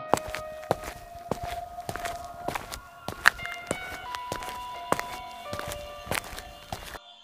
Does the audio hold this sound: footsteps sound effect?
yes